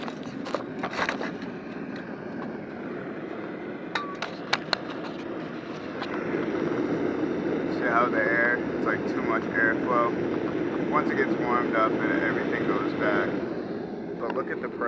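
A naturally aspirated ribbon burner fed by propane at around 5 psi roars steadily, the broad rushing noise swelling louder midway as the gas is turned up, with scattered clanks, a hissing band and people talking nearby.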